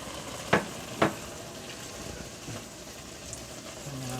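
Leek leaves and celery are stirred together in a cooking pot. Two sharp utensil knocks open the sequence, followed by softer rustling and a low, hissing sizzle, close by with no voices.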